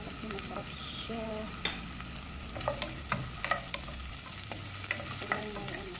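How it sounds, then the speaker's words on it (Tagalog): Ginger and onion sautéing in a pan for tinolang manok, a faint sizzle under repeated stirring taps and scrapes of a utensil against the pan, close and fairly quiet. "At sibuyas, ilagay natin ang ating luya."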